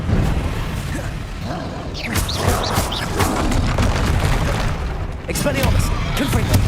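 Spell blasts in Hogwarts Legacy, including the Confringo blasting curse, hit in sharp explosive bursts amid continuous combat noise, with one burst near the start and another toward the end.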